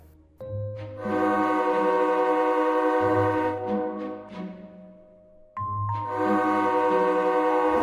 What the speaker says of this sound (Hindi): दूसरी ओर पटरी पर ट्रेन आ रही थी।